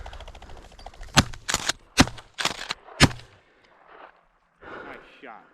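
Several sharp shotgun blasts ring out close by in quick succession during a snowy pheasant hunt in Colorado, followed by quiet and a few short spoken words.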